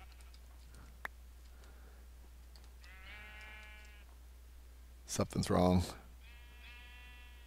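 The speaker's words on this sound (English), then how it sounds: "I shouldn't have axed that sheep in the face." Sheep in the video game Minecraft bleat twice, a wavering, moderately loud call near the middle and another toward the end, with a short spoken outburst between them over a low constant hum.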